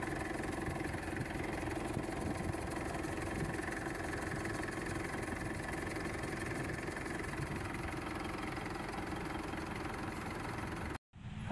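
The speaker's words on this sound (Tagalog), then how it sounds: "Ang ganda ng idle niya mga boss, oh." A 2012 Mitsubishi Montero Sport with a hard-starting problem idles at an even, steady hum. The sound holds unbroken for about eleven seconds, then cuts out briefly just before the end.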